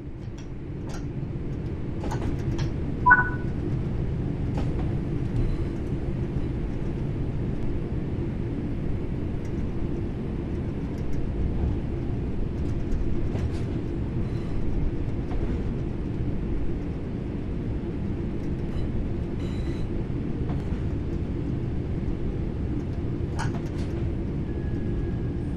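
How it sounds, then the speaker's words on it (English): In Train Sim World 4 a train coasts on level ground with the throttle at zero. A steady low rumble of rolling wheels carries on evenly throughout, with occasional faint clicks and ticks above it. "The train will then coast on level ground, and the train will only slow down very gradually."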